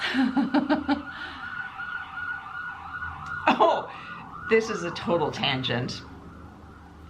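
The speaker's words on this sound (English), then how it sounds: "That was the ambulance." An ambulance siren wails in the background while a person talks and someone snickers nearby.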